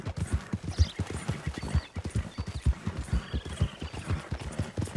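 A horse in Red Dead Redemption 2 is ridden at a steady pace, its hooves clip-clopping in a quick, continuous rhythm close by, with a faint whinny in the background.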